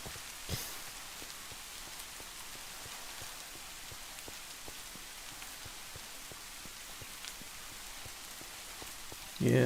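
Rain falling on a mountain trail, a soft constant patter with scattered sharper drops, quiet and alone, ending in a brief louder bump.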